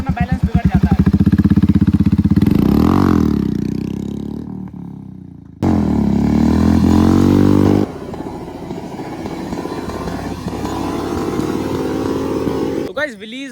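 A Royal Enfield Meteor 350cc motorcycle revs hard and close during a wheelie, its engine rising and surging in loud bursts, with a brief drop and then sustained throttle.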